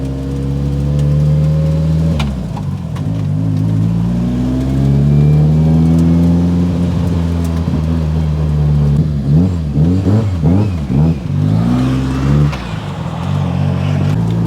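A car engine that has just been restarted revs up and down loudly and close, swelling and falling in pitch through several throttle blips before settling back toward idle.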